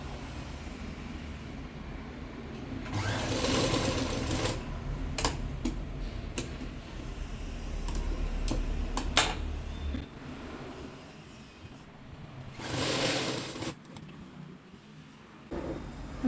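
A sewing machine stitches a nightie in two short runs of rapid mechanical whirring, heard up close over a quiet room with faint ticking between the runs and no voices.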